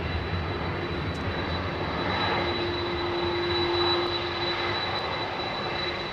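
Constant loud roar and whine of airliner jet engines at London Heathrow, steady throughout with a faint high tone riding on top.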